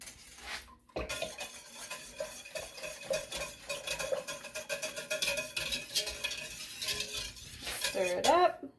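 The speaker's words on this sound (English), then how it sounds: "We're going to whisk this together so that when we add it back into the pot, it's not all clumpy." Yogurt mixed with live culture is whisked in a bowl for homemade nonfat Greek yogurt, producing rapid, continuous clinking and scraping of a utensil against the bowl, close up, after a brief quiet start.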